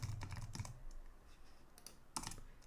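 Soft, quiet typing on a computer keyboard while coding RPG on an IBM i/AS400 system, with irregular clusters of key clicks separated by short pauses and no voice.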